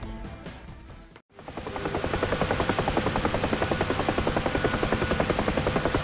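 A UH-1H Huey helicopter in the DCS flight simulator flies with a steady, dense rotor thump after a brief dropout, the blade beat close and continuous.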